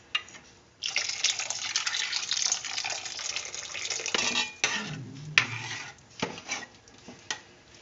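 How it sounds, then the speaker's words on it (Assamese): Warm water poured from a pot into a vegetable soup pot, a loud steady splashing stream for several seconds that breaks off, followed by a few clinks of metal utensils against the pot. "এতিয়া মই ইয়াত কুহুমীয়া গৰম পানী দি দিম"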